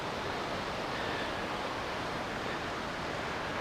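Rushing creek water in a rocky gorge at Mill Creek Park makes a constant, dense hiss and roar that holds steady from start to finish with no voices.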